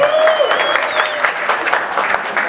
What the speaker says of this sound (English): A round of applause to all the ladies in the house.